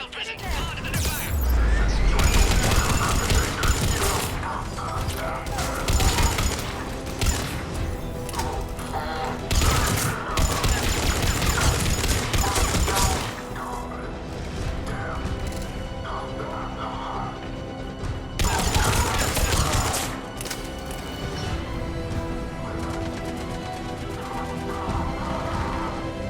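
Gunfire at a checkpoint in the sci-fi shooter Mass Effect 3, with heavy bursts of shots and crashes rising and falling over about 26 seconds, layered with music and occasional voices.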